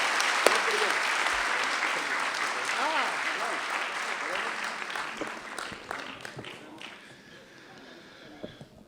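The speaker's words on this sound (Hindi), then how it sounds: "तो एक बार दोनों हाथ उठाकर जोरदार तालियां" Audience at an Independence Day patriotic poetry event applauding loudly to welcome the poet Sudeep, a thick burst of clapping that gradually thins and fades toward the end, with voices faintly mixed in.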